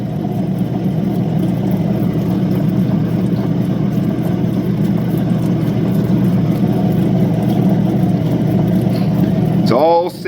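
A Lightning Ridge opal is ground lightly on a lapidary wheel, with a loud, steady motor whir and grinding hum that breaks off briefly at the very end.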